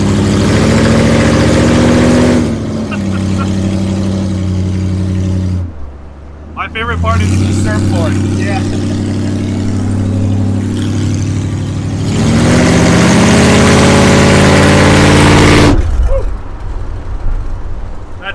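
A loud car engine idles and rumbles steadily, with people talking over it.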